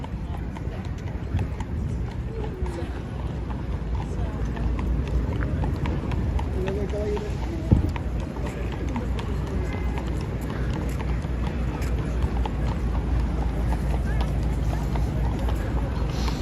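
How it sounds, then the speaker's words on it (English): Horses' hooves clip-clopping along a street leaving Central Park in New York City, steady rhythmic clopping amid continuous city traffic and crowd noise, with voices talking throughout. "As we follow the horses out of Central Park,"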